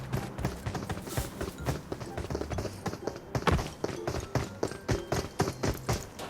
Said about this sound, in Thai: มีเสียงเท้าอ่ะ